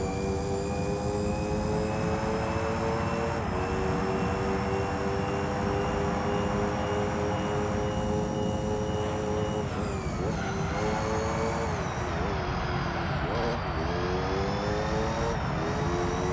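Formula GT race car engine in Gran Turismo 3, a loud continuous high-pitched whine with steady harmonic tones that shift as the car changes gear, with no talk.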